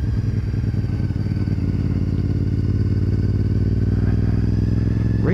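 Small pit bikes race around a makeshift track near a trailer, their engines droning steadily and fairly close throughout, with no pauses between passes.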